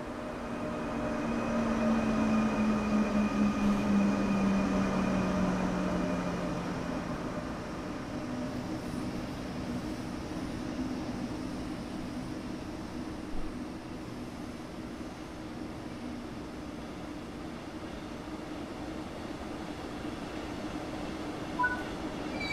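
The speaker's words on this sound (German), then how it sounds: "Und wir warten jetzt mal, bis unser Zug hier einrollt. Da kommt er schon, der ICE 1." In the Train Sim World 3 video game, an ICE 1 high-speed train rolls into a station with a low rumbling approach and descending brake whine, fading to a steady distant hum of the platform ambience.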